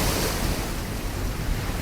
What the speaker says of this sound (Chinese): 不好，是暴风雨！